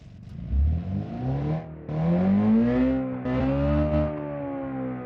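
A 1100cc Rivetto sports car engine in the BeamNG.drive driving game revs hard and climbs high in pitch, dips between gear shifts and climbs again, loud and close with no talk over it.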